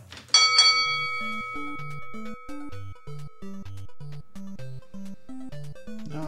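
A bell chime rings out in the StarTropics video game, followed by a steady, bouncy chiptune melody of evenly spaced notes playing loudly and continuously.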